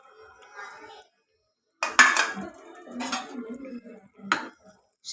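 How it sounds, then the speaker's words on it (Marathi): Crushed peanuts go into cooked fresh-pea vegetable in a pot and are stirred in with a metal spoon, giving scattered clinks and scraping knocks against the pot with short pauses between them. "त्याच्यामध्ये शेंगदाण्याचं कूट टाकून घेऊ."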